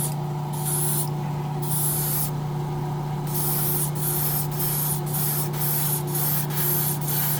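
An airbrush sprays thick old primer inside a waterfall spray booth, a steady hiss that cuts in and out in short bursts over a constant low hum from the booth's fan.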